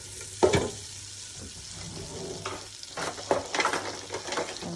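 Cinnamon sticks frying in olive oil in a pan, a soft continuous sizzle broken by a few brief stirring clatters, close and fairly quiet with no talking.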